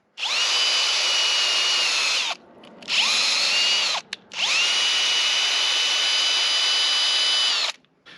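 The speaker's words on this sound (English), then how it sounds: "chuck the tap up in a drill and throw a socket on them" A power drill runs a tap through lug nuts, whirring loudly in three sustained runs with brief pauses between, the motor spinning up and winding down each time.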